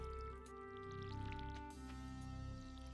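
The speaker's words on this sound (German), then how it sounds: "Dann gießen wir gleich alles, was wieder weggegangen ist." Crops are watered with a watering can in the farming game Stardew Valley, a soft pouring splash effect heard over a steady, tonal background music track.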